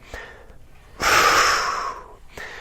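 A single forceful exhale during a hip mobility squat-priming drill: a loud, breathy rush of air that starts abruptly, holds for about a second and fades, framed by quieter breaths before and after.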